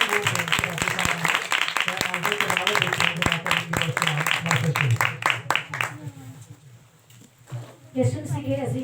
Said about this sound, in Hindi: आइए हम सबसे पहले खुदा बाप, खुदा यीशु मसीह और पाक रूह के लिए जोरदार तालियां बजाएंगे।